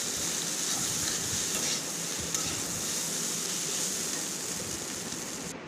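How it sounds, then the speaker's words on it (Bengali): Chow mein being stirred and fried in a pan with salt and roasted spices gives a steady sizzle with scraping stir strokes, fairly quiet and continuous, with no talking. "ভালো মতো এখন নাড়াচাড়া করে ভাজা করে নেবো।"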